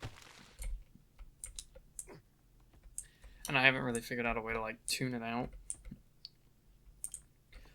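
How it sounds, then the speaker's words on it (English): Clicks from a mechanical keyboard sit right next to the microphone during a 7 Days to Die: Darkness Falls gaming session, sharp scattered taps spread through the stretch while someone talks in the middle. "it leans very close to my mechanical keyboard, and that's why you guys hear clicking so much"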